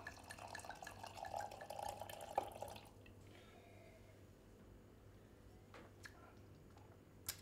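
Red Portuguese blend wine pouring into a glass, a soft trickling gurgle for a few seconds that stops, followed by quiet room tone with a couple of faint clinks.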